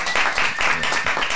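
A short burst of clapping and applause from a small group, dense and close, lasting about a second.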